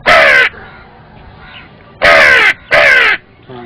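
A boy mimics the caw of a hill crow: one loud, raspy caw, a short quiet gap, then two more caws in quick succession, close and clear.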